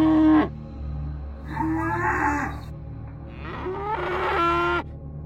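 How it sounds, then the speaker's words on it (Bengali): Cows mooing loudly at night outside a house, a cartoon-style effect with several long, drawn-out bellowing calls in succession, close and strong over a steady low hum. "হঠাৎ বাইরে থেকে তাদের গরুগুলো ডাক দিতে থাকে।"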